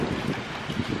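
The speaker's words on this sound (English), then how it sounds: "The wind is making a horrible noise and I'm scared." Wind gusting outdoors around an abandoned factory, a steady, fairly loud rushing buffet against the microphone with no other sounds.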